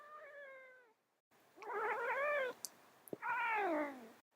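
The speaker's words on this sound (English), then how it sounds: "It's my cat, Nimbus." A cat meows in drawn-out, complaining wails, three long rising-and-falling cries close to the microphone, separated by short pauses and a couple of faint clicks, with no talking.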